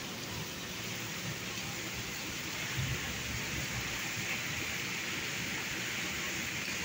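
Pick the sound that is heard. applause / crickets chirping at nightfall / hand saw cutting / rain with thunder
rain with thunder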